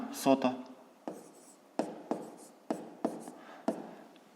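Pen or chalk writing numbers by hand, a series of sharp short strokes and taps at a fairly steady pace, close, following a brief burst of speech at the start.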